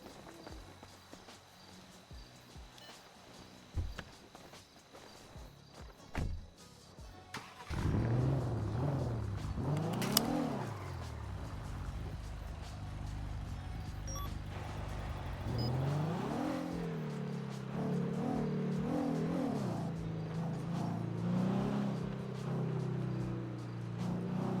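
A car engine revs and accelerates in rising, falling waves, with a few light knocks and clicks before it starts.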